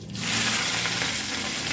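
Green chillies dropped into hot oil already holding cumin, mustard seeds and curry leaves, a tempering for moong dal dhokla; a loud, close, continuous sizzle that swells right after they land and then holds steady.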